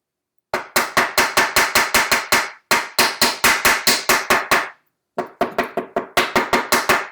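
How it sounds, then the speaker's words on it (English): Hammer tapping leftover staple ends into a wooden wing back recliner frame: three close, loud bursts of rapid, evenly spaced sharp blows separated by short pauses, with no talking. "Just hammering in the ends of the staples that remained in the wood"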